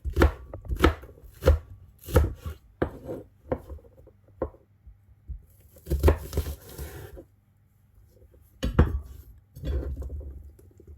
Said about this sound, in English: just roughly chop my spring onion